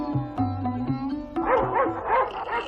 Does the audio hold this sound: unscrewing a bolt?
no